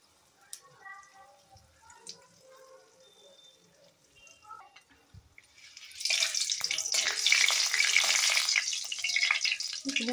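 Five-spice, dried chili and two bay leaves hit hot oil after a quiet stretch of faint clinks and a brief voice, bursting into a loud, steady sizzle that carries on to the end.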